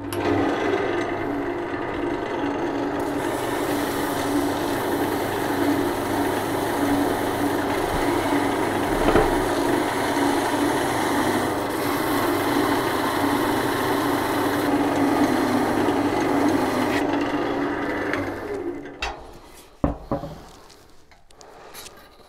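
Wood from an open segmented vase base, end grain included, rubbed flat on a large sandpaper board, giving a steady, continuous abrasive rasp that runs for about eighteen seconds, then thins into a few scattered scrapes and knocks.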